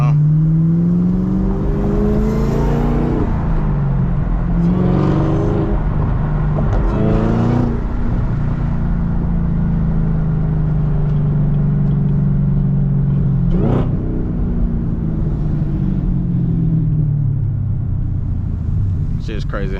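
A supercharged 6-speed manual Camaro ZL1 pulls hard on the highway, its engine droning loudly with rising and falling revs through gear changes and a high supercharger whine layered over the rumble, steady and close throughout.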